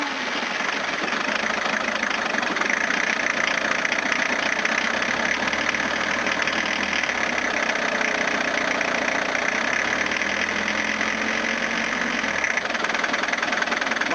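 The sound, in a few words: old diesel engine running after starter repair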